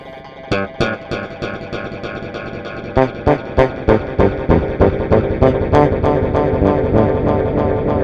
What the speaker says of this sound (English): If you increase your repeats all the way up and choose 80 settings, it gets into a repeat mode.